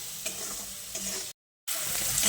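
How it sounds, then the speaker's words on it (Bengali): Onions with salt frying in a pan, a close steady sizzle with light stirring scrapes, broken by a short cut of silence before the frying resumes. "তো দেখুন পেঁয়াজটা আমি হালকা বাদামি করে ভেজে নিয়েছি।"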